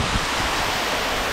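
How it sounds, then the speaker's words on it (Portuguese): Steady broadband rush of the Cachoeira do Kohler waterfall beside a road in São Bento do Sul, Brazil, heard close and continuous with no voices over it. "Nossa, olha essa cachoeira."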